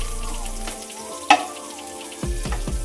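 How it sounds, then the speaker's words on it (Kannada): Onion fries in a pan for Mangalore-style chicken sukka, with a close, moderate sizzle and a few clinks and stirring scrapes. "ಈಗ ನಾನು 1 ಈರುಳ್ಳಿಯನ್ನು ಹಾಕ್ತಾ ಇದ್ದೀನಿ ಫ್ರೈಗೆ."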